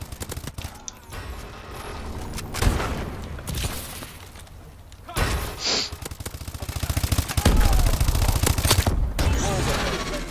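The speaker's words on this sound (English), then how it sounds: "Let's go ahead and drop this remote turret right here." Sustained automatic gunfire from a deployed remote turret in a Call of Duty match, loud rapid bursts layered with booms and battlefield noise, building to a dense continuous rattle toward the end.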